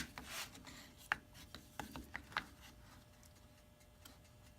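A knife cutting a joint in handmade wooden pliers, with faint close rubbing and scraping strokes and a few sharp clicks and ticks of the blade against the wood, fading into quiet room tone.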